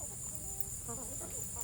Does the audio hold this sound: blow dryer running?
no